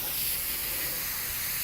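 An airbrush spraying paint onto a latex mask gives a steady, bright hiss, close and continuous throughout.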